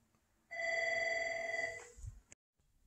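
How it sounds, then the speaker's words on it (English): A home PBX attendant telephone rings down a hallway in one long steady electronic ring of about a second and a half, fairly clear and moderately loud, followed by a brief clunk and silence. "You'll hear the attendant phone ringing down my hall."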